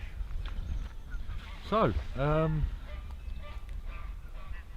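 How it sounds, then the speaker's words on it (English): A duck on a river bank gives two short honking quacks in quick succession, loud and close against steady outdoor background noise, with a brief spoken word at the start. "Got a duck on the bank."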